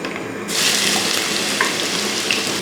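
Ginger garlic paste hits hot oil with spices in a pan and bursts into a loud, steady sizzle after a brief quieter moment, frying continuously and close up with no talking.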